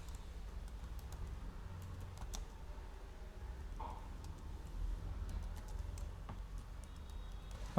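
Typing on a computer keyboard, with soft, irregular key clicks spread faintly over a quiet room background.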